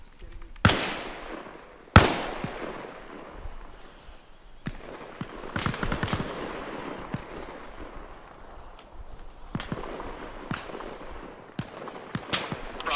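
Gunfire cracks in an ARMA Reforger military simulation: a few loud, sharp shots ring out early and echo away, then scattered quieter pops and short bursts follow at irregular intervals.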